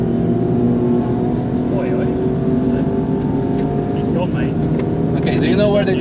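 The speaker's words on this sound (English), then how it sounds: "A bit of an M2 behind us" Steady loud engine drone from inside a car on the Nürburgring with a BMW M2 coming up behind, a continuous rumble of engines and road noise as people talk throughout.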